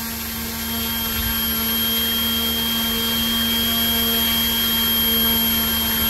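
A 3D-printed Hamilton Standard 11x6 propeller spinning at half throttle on a thrust test rig, giving a steady, loud whirring drone with a constant tonal hum that holds unchanged throughout, with no voices.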